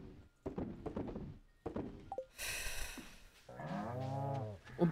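Cows moo in the Stardew Valley video game, two long loud lowing calls near the end, after a series of thumping footsteps and a brief higher bleat-like cry.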